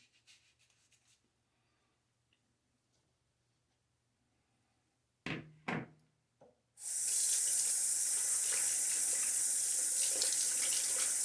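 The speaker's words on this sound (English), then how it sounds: "as I'm rinsing off my hands" A running tap rinses hands in a sink. After near-silence there are a few brief splashes, then water gushes steadily, loud and close, until the end.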